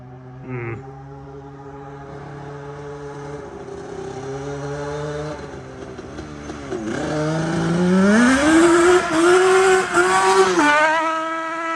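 A Yamaha Banshee ATV engine revs loud and close, its pitch climbing and dropping through a couple of gear shifts before a strong high-rev pull near the end.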